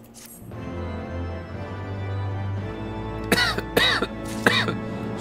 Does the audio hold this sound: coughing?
yes